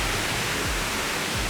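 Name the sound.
Ganoga Falls waterfall in Ricketts Glen heard from afar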